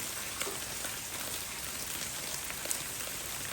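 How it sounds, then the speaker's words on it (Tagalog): Steady rain patters down outdoors around a flower garden, a dense, even hiss of drops on surfaces with a few slightly louder splashes, continuous and alone with no talking. "Umuulan din."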